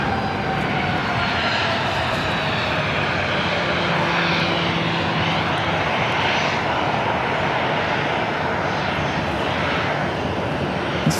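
An airliner taking off at Phoenix Sky Harbor airport, a loud, sustained engine roar that holds steady throughout with a broad rushing tone and a faint shifting whine, heard from a spotting position near the runway.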